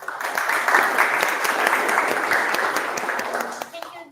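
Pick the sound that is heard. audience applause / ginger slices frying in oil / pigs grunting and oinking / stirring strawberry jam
audience applause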